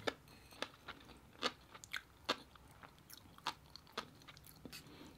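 Close, crisp biting and chewing of cuttlefish or octopus at a mukbang meal, with separate crunchy bites and wet chewing sounds at an uneven pace, no talking.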